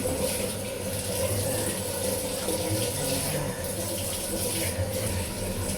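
Tap water runs steadily while a pet named April is bathed; the continuous rush of water is fairly loud, with faint voices now and then.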